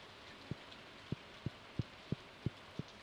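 Soft rain hisses steadily in the farming video game Stardew Valley, quiet and even, while seven low, regular thumps like footsteps punctuate it. No one speaks.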